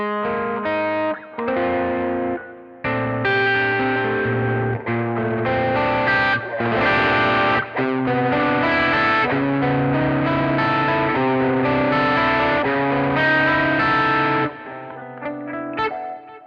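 Electric guitar rings out complex, close-voiced chords through a Dumble-style overdrive pedal, each strum loud and sustained with gaps between phrases, the tone warm and gritty with no voices over it.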